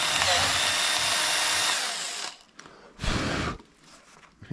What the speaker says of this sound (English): Drill a few holes through that.